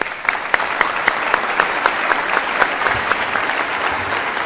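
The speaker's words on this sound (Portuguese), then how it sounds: "gostava que todos nós batêssemos um aplauso forte pela sua vida" A lecture-hall audience at the Lisbon Faculty of Law claps in honour of David Miranda, a dense, steady burst of many hands with sharp individual claps standing out, sustained throughout.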